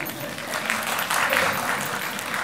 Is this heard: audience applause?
yes